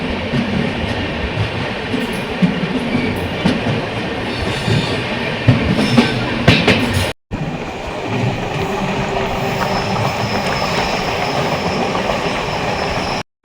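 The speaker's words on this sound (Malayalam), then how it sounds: "ട്രെയിൻ കൊങ്കൺ റെയിൽവേയിൽ എത്തി." A Duronto Express train runs along the Konkan Railway, heard from inside a sleeper-class coach. A loud, continuous rumble of wheels and rattling carriage fills the recording, with clicks over the rail joints and a brief cut midway.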